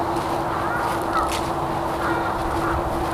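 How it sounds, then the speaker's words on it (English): Ducks and other birds gather at a pond by the entrance of the El Dorado Nature Center in Long Beach, their quacks and honks scattered over a steady outdoor background. "and a lot of birds"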